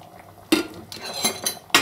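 Home-style beef and potato roast with dill stirred in a pot, a few sharp spoon clanks against the metal rim spaced about half a second apart, close and clear, with no voices.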